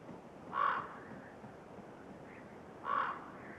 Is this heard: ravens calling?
yes